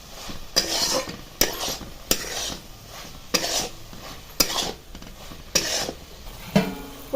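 Half-cooked brinjal curry with dal being stirred in a pan, heard as a series of about eight distinct scraping strokes of a spoon over a faint simmer, close and quiet, with no talk.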